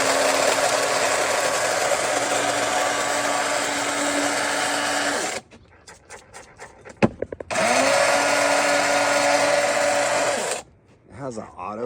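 An electric coffee grinder grinding fresh coffee beans at a camp outdoor kitchen, a loud, steady whir lasting about five seconds, stopping briefly with clicks, then running again before cutting off.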